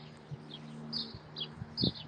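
Several small birds chirp and tweet in short, bright calls around Jedburgh Abbey on a sunny summer day, with a low steady hum underneath.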